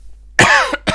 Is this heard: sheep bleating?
no